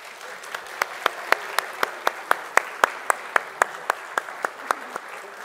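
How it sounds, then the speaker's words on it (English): A church congregation applauds a newly baptized member during a traditional worship service, heard as a steady run of distinct claps, some louder and closer, standing out clearly over a soft room background. "Congregation, we welcome Waylon, the newest baptized member of the body of Christ, with our applause."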